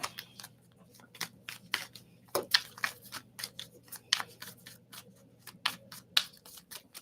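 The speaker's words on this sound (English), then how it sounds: "One more shuffle, 2 more shuffles, and then we're good." Tarot cards being shuffled by hand during a card reading, a series of short crisp riffling and snapping bursts in an irregular rhythm, close and fairly quiet over a low steady hum.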